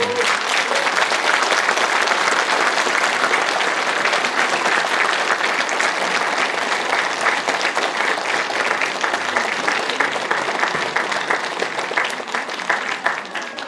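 A dense, even wash of audience applause fills a Sejong City sports council donation ceremony, continuing steadily for over ten seconds with no pause.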